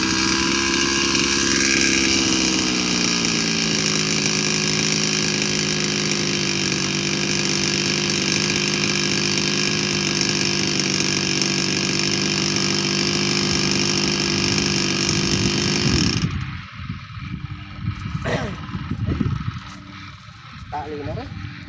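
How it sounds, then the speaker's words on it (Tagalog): Motorized grass cutter running in a field, a loud steady engine whine with strong harmonics that holds for about sixteen seconds, then cuts off, leaving quieter outdoor sounds and scattered noises. "at start na nga si kapartner mag-grass cutter dito sa baba"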